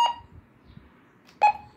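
A Honeywell RN507W radio gives two short electronic button beeps, one at the start and another near the end, separated by near silence with faint handling clicks between them.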